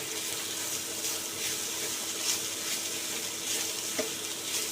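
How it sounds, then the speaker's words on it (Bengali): Chopped tomatoes and mixed winter vegetables fry in a pan, giving a soft, steady sizzle with faint stirring scrapes and a small clink near the end, all fairly quiet and without speech. "দিয়ে এটাও ফ্রাই করে নেব"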